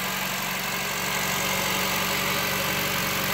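A Honda City's i-VTEC engine idles steadily up close, a constant loud hum and rumble with no change in pitch and no one speaking.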